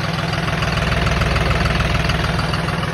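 Tractor engine idling with a steady, loud, throbbing low rumble and a regular rhythmic pulse, close by and constant throughout with no speech.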